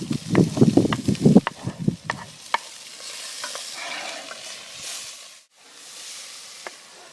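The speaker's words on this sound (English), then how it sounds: "now we're going to add in the chopped onions. And we're going to let those cook for a few minutes" Chopped onions are stirred into pork belly fat with bear meat in a pot over a campfire, giving a few seconds of loud scraping and sizzling that then settles into a soft, steady frying hiss.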